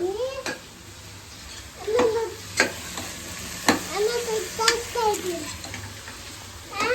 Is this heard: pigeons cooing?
no